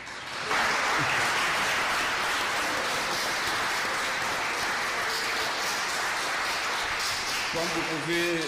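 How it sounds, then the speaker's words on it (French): A crowd bursts into sustained applause, dense and steady clapping that carries on for several seconds before a voice returns at the end. "Est-ce que le Dr Jules ne mérite pas de meilleurs applaudissements?"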